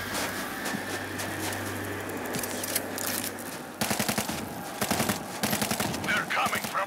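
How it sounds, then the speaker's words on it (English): Rapid bursts of stationary machine-gun fire in the World War Z Aftermath zombie shooter, loud close rattling volleys that start after a few seconds of low rumble and come in several clustered strings. "Stationary machine gun in position"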